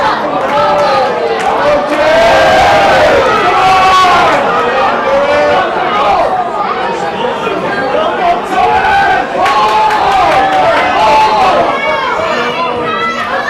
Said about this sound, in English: The crowd here at the stadium are cheering for Jib and their boys